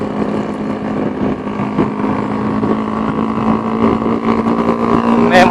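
A Honda CB150R motorcycle fitted with a Spartan GP aftermarket muffler runs with a deep, steady exhaust drone. The burbling tone rises slightly near the end and stays loud and close throughout.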